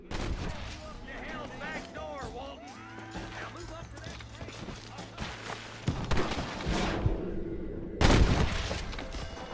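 Gunfire and booms crack through a cowboy shootout video game, mixed with horse hooves and players talking over it; loud bursts land near the end.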